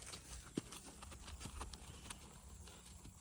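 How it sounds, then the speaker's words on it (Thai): A racing mare is ridden outdoors, her hooves clip-clopping in a quick, uneven beat. The hoofbeats stay faint and low against steady background noise. "เรามาขี่อ่าแม่ม้าแข่งกันนะครับ"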